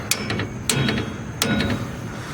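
Hammer blows striking corroded rear strut bolts on a 1992 Pontiac Grand Prix, three sharp metallic impacts spaced about 0.7 seconds apart, close and fairly loud over a steady background hum.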